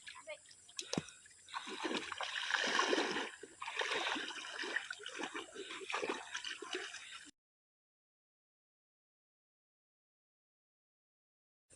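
Water flowing and splashing during a fishing outing, with trickling, dripping and sloshing close by for about seven seconds before the sound cuts out to silence.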